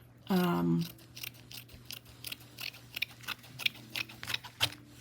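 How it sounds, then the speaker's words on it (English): Scissors trimming a strip of lace, a series of close crisp snips and small clicks at irregular intervals, with a brief voice sound at the start. "I'm going to trim it up just a little bit"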